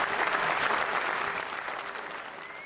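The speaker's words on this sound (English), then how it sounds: "left the chamber to a standing ovation with applause from his own MPs only" MPs in the House of Commons chamber giving a standing ovation, a dense wash of applause that is loud at first and slowly eases off, with no clear voices above it.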